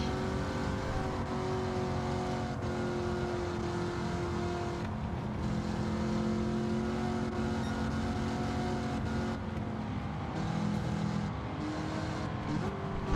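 Late model stock race cars from the GTO Late Model Stock Tour roar around the track in a continuous, loud engine drone, with several cars passing and revving through the pack.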